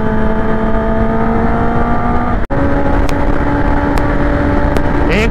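Motorcycle engine at full throttle on a Sunday group ride from Delhi to Gurugram, a steady loud drone with engine harmonics held throughout and one brief dropout midway.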